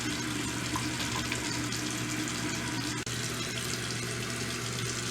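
Steady running tap water while rinsing off after washing the neck and chest, a continuous close, even splashing hiss with no talking.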